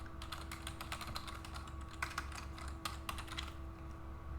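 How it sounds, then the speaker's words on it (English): Rapid keystrokes on a computer keyboard as a website address is entered, a close, steady burst of clicking over a low hum that thins out near the end. "Type in your website address,"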